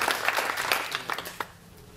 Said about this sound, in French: je pense qu'on peut applaudir tout ce monde-là pour se remercier.